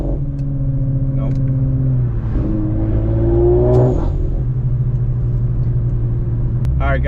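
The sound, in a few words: modified Audi RS5 accelerating under boost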